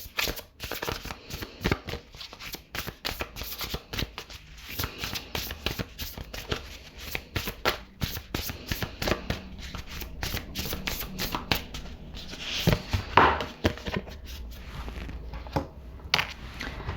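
A deck of oracle cards is shuffled up close, giving a long run of quick riffling and flapping bursts without speech.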